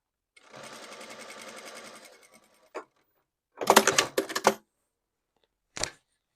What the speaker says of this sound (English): pin the waistband to the top of the self waistband and sew 5/8 all the way around